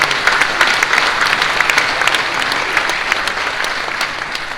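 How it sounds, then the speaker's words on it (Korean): An assembly hall audience at a church general assembly claps steadily for several seconds, giving a broad, continuous patter of hands that tapers slightly toward the end. "이에 대해서 박수로 한번 격려하십시오"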